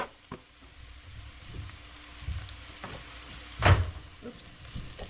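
Onions cook down in a pan for barbecue spaghetti with a faint, low sizzle, interrupted by one louder clatter of utensil or pan midway; no voices.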